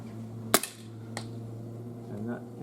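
A SIG Sauer P226 CO2 pellet pistol fired at a paper target, one sharp close crack followed by a lighter second snap, likely the pellet striking the trap, set against a steady low hum.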